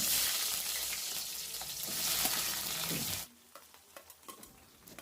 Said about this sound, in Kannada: ಬ್ರೌನ್ ಕಲರ್ ಬರೋವರೆಗೂ ಫ್ರೈ ಮಾಡ್ಕೊಳ್ಳೋಣ